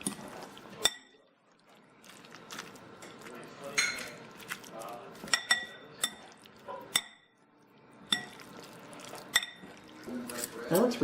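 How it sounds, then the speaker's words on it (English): Enchilada filling with sauce being stirred in a pan, with a spoon clinking and scraping against the metal edge in quick, irregular bursts up close, separated by short pauses. "Stir to combine. I'm gonna scrape that off the edge."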